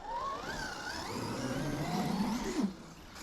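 A small electric RC car on paddle tires whirs and revs across dirt at a construction site, its motor pitch rising and falling nearby before cutting off abruptly near the end.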